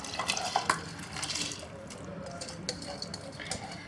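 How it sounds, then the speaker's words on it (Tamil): Soaked basmati rice tipped into a pot of boiling water for Yemeni mutton mandi, giving faint scattered splashes and watery patter over a soft bubbling background. "பார்த்திங்கன்னா நல்லா வந்து கொதி வளர ஆரம்பிச்சிருச்சு. இப்போ நம்ம வந்து அரிசியை வந்து இதில் ஆட் பண்ணிடலாம்."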